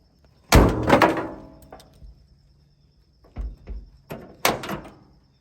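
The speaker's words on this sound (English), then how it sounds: "this is going to be the first time in I don't know how many years that this door is shut on its own." Driver's door of a Ford F600 project pickup truck, its latch freshly adjusted, slams shut with a loud metallic thunk, then closes again twice more with shorter, quieter thuds a few seconds later.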